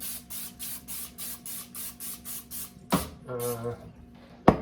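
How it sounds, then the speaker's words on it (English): Cooking spray sprayed onto a baking sheet in a series of short hissing bursts in a steady rhythm, followed by a clatter, a brief squeaky sound and a sharp knock. "I'm going to hit it with some cooking spray."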